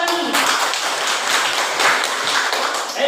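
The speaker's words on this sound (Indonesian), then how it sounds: "Siapa lagi tepuk dulu?" Students clap together in a classroom during an English lesson, a dense, steady patter of many hands filling the room at close range.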